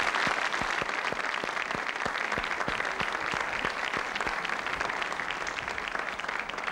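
A studio audience on a Turkish television talk show from 2000 applauds, a dense, steady wall of clapping that stays loud and even throughout without talk.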